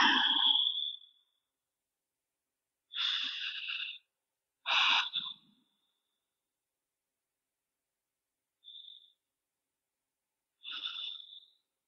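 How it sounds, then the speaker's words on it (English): During a yoga forward fold, slow deep breaths come close and audible, a long breath at the start followed by several shorter airy exhales and inhales separated by silence. "Couple of breaths."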